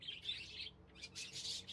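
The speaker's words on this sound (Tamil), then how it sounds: "நெக்ஸ்ட்டு இதே மாதிரி குருவி இருக்குல்ல" Small birds chirp in a pet shop simulator game, quick bright tweets in two short bursts, fairly faint and alone without talk.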